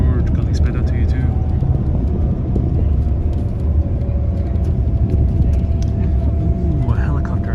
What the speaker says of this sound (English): Ooh, a helicopter.